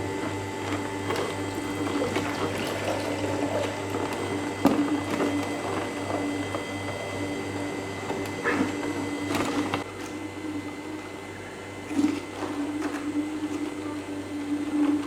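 An electric juice extractor running steadily while separating beetroot and pineapple juice from pulp, giving a loud continuous motor hum and whir with occasional rattles and knocks throughout.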